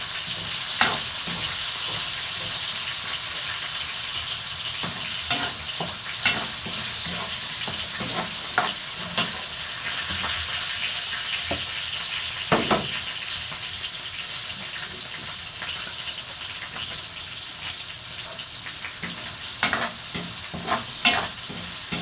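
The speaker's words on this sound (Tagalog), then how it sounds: "Lagay ko na rin yung sibuyas." Chopped onions and garlic sizzle steadily in a pan for a chicken caldereta, with repeated scraping stirs and soft clinks of the utensil against the pan throughout.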